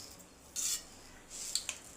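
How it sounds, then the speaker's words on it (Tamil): Mustard seeds splutter in hot oil in a kadai, two short, quiet bursts of crisp crackling sizzle separated by a pause. "கடுகு நல்லா பொரிஞ்சு வரட்டும்."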